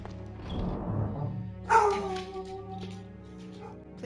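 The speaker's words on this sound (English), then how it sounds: "Please excuse my dog." A boxer dog indoors gives a few sharp, close barks and yips after a stretch of low rumbling background noise, followed by quieter whimpering sounds. Nobody talks over it.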